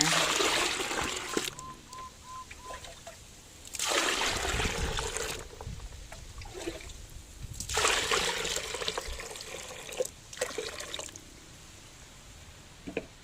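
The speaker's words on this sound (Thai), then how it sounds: "เทน้ำลงไปเลยนะคะ ประมาณ 5 ลิตรค่ะ" Water, about five litres, poured in bursts into a homemade pest-repellent mix with wood ash, coming as several loud splashing pours with pauses between them, outdoors, with no talk.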